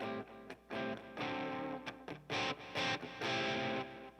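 A short distorted guitar phrase in the Dorian mode with a mellow minor-ish but bright flavor, played in bursts of sustained notes with brief gaps.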